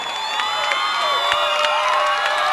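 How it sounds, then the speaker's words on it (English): A volleyball crowd at a Class 4A state match between Durango and Silver Creek cheers and shouts continuously, a dense wall of voices and whoops filling the gym at full volume. "The crowd reaction, all the Durango volleyball community on their feet"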